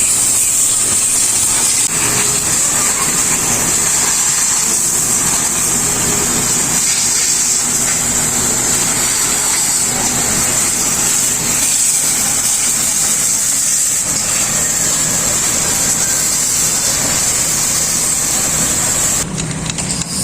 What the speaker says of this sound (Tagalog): Yung tunog ng ating motor. Banayad na. Saka nag-start kagad.